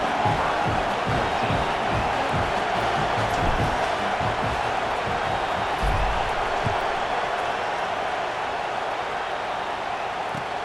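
Steady broadband roar of a stadium crowd in the EA Sports College Football 26 video game, a dense continuous murmur with scattered cheers and claps, holding at an even, fairly loud level throughout with no speech.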